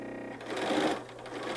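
A sewing machine stitches a basting line on a paper-pieced quilt unit, a brief burst of rapid mechanical whirring that starts after a moment of quiet hum and runs for about a second, close and clear.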